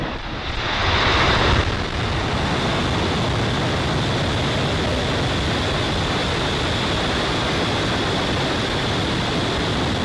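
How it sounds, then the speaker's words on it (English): Falcon 9 rocket ignition and liftoff at a SpaceX launch: a sudden swelling roar in the first two seconds settles into a steady, dense broadband rumble with a faint high hiss, continuous and loud to the end, no voices. "Ignition and liftoff."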